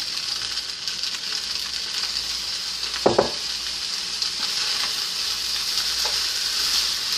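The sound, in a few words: shrimp fried rice sizzling while being stirred in pan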